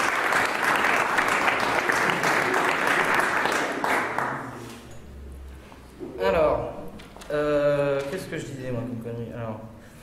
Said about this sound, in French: donc on va applaudir la mairie de Mélé maintenant